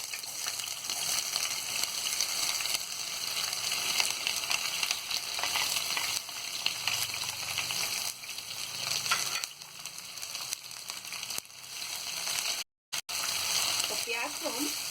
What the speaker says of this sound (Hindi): ये तेल अच्छा गरम हो गया है। अब हम इसमें मेथी दाना डालेंगे। अब हम ये प्याज डाल देंगे।